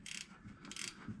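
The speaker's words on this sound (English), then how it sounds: "Just finish tightening up these rear lugs." Ratcheting clicks from a wrench tightening the rear wheel lug nuts on a 2010 EZGO TXT golf cart, a few quick close bursts of mechanical ticking with short pauses between.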